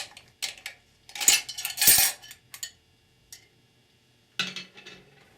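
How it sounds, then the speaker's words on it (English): A wavy snap ring is pried out of a Chrysler 46RE transmission, giving close metallic clinks and scrapes in irregular bursts with quiet gaps between them. "Remove this very wavy snap ring"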